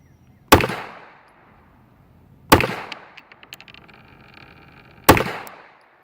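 A Walther PPQ 22 pistol fires Stinger rounds: three sharp, loud shots spaced a couple of seconds apart, each ringing off briefly, with light metallic clinks after the second.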